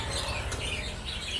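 Caged birds, including magpie robins, chirp and tweet in a bird shop. The calls are scattered and overlapping above a dense, busy background hum.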